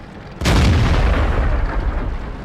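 A tank cannon fires in World of Tanks, one sudden loud boom followed by a long, heavy rumbling decay with no speech.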